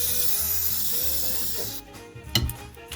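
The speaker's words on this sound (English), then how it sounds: "So you got the gray color mist, and you spray it onto the cookies." Gray color mist sprayed from a can onto gingerbread cookies: a long, steady, bright hiss that cuts off partway, followed by a few quieter bumps and handling noises.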